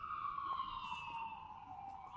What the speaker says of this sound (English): I didn't even walk a block and that ambulance came around the corner.